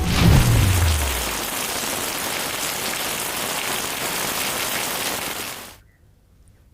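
Heavy monsoon rain pours down in Surat, where it has disrupted road traffic: a dense, steady hiss of downpour that runs loud for about six seconds, then cuts off abruptly to near silence.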